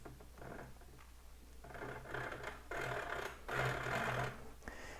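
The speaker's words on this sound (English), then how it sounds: "when I use a hacksaw or something, I like to get myself just a little like notch started" A hacksaw cuts into the plastic bed of an RC4WD 1987 Toyota Hardbody model in short close strokes, a rasping scrape that swells with each push and pull, with no voices.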